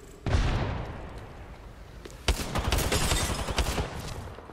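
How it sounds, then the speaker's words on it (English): A grenade goes off amid gunfire in the video game Apex Legends: a sudden loud blast, then a second burst of rapid shots and booms after a short lull, dense and rumbling. "Look out, grenade."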